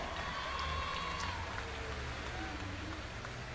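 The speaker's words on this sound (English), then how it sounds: "let's give him a nice round of applause" An audience applauds at a 1992 mini rod tractor pulling event in Louisville, Kentucky, a faint, steady wash of distant clapping under a low outdoor rumble, with a quiet voice in the background.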